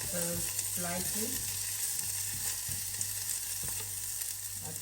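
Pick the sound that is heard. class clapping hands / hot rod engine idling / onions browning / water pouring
onions browning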